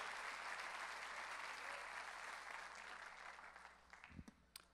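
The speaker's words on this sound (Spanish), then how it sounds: "Dale más fuerte ese aplauso al Señor" A church congregation at a Christmas service applauds the Lord, a broad, steady clapping that stays full for several seconds before thinning into scattered claps and fading, captured faintly.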